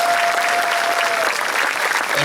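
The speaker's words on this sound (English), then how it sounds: "Let's give them a big round of applause." A crowd at a high school varsity sports awards night breaks into full, steady applause, many hands clapping in a thick, even roar that carries through the whole moment.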